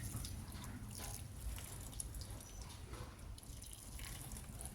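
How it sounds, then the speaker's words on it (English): Water from a kettle trickles and drips over a frozen pipe fitting outdoors on a farm in cold weather, a faint steady splashing pour under low background rumble. "we just hopefully pour a bit of water over the fitting"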